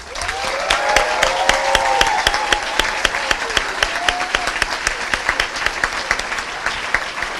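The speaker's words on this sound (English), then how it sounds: "a big hand and a big round of applause to the class of 2018" Audience applause for a graduating class at a 2018 commencement ceremony, a dense sustained wash of many hands clapping that stays steady for several seconds with faint voices mixed in.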